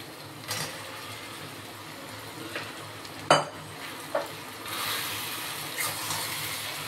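Bhetki fish bones go into a pan of cooked spice paste with a soft sizzle and frying hiss, broken by a few sharp clinks and scrapes of a utensil against the pan.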